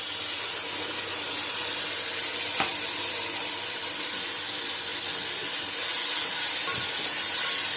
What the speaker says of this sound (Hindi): अभी हम दूध डालने लगे हैं।